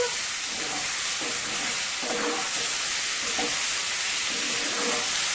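Shrimp fry in hot oil in a pan with a steady, bright, close-up sizzle and a few faint stirring scrapes, heard on its own without voices.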